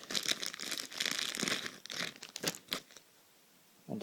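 Plastic packaging around a set of tabletop wargame dice crinkles and tears in dense bursts for about three seconds, then goes quiet before one last short rustle; close and fairly loud, with no talking.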